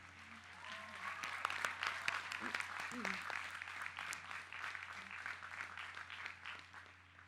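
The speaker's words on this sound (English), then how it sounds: "A round of applause for all the support that has gotten us to this day." Audience applause fills a college commencement ceremony at Oberlin College, a dense, steady patter of many hands clapping together at moderate distance, with faint voices mixed in beneath it.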